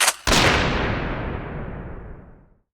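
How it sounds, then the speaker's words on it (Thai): A single loud rifle gunshot fired in a jungle forest during a tiger hunt, opening with a sharp crack and then a long, fading echo that rolls away into silence. "เสียงลั่นไกลปืนก็ตามไปอีกหนึ่งนัด"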